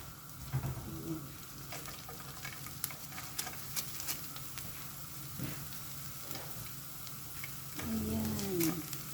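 Garlic frying in a pan as chicken is cooked, a continuous crackling sizzle with scattered sharp pops and stirring scrapes, plus a brief voice-like murmur near the end.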